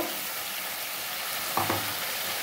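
Turmeric powder is stirred into a chicken and mushroom curry as it fries, giving a steady soft sizzle with a brief scrape of the spoon near the end.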